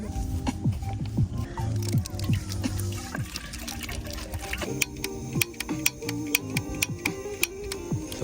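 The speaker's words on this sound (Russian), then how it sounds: "вот эта кнопка газ почему-то не хочет зажигать" The igniter button on a camping gas stove, used outdoors on a bikepacking trip through Belarus, clicks over and over in a rapid, irregular run. The sharp close-up ticks sit over soft rustling and watery handling noise.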